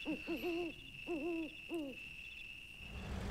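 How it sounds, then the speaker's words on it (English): Owl hooting far off in the night ambience of the off-road truck game MudRunner, three soft hoot phrases spaced apart over a steady high insect-like whine and low background hum. "You hear the owl in the distance hooting."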